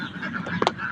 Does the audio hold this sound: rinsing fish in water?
no